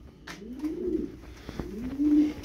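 A tumbler pigeon gives two soft, close cooing phrases, low and rolling, with a little background rustle between them.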